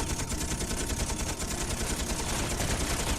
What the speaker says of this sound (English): I'm going to fire my Gatling gun.